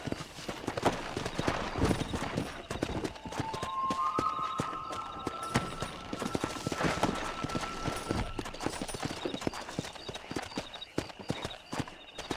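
Horse hooves clip-clop steadily as a horse is ridden in the video game Red Dead Redemption, a continuous galloping rhythm at moderate loudness with a brief whinny-like tone in the middle.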